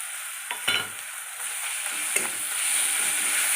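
Ginger paste and grated onion fry in a pan with salt, a close, bright steady sizzle broken by a few sharp stirring scrapes and knocks, growing slightly louder toward the end.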